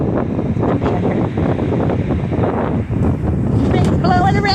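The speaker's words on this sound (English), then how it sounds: "It's windy out here." Strong wind blowing outside on a porch on a windy day, a loud continuous roar with gusty buffeting on the microphone, while someone talks over it.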